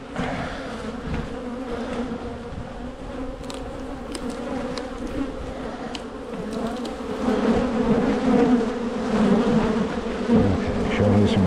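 Honeybees buzz steadily around an opened hive during an apiary inspection in July, a dense, continuous drone that swells louder toward the end, with no talking.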